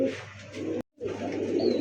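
Male pigeon cooing close by, a low throaty coo in two bursts broken by a brief silent gap, with no talk.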